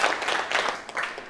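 A classroom of students claps for a classmate, a short burst of scattered, fairly close hand claps.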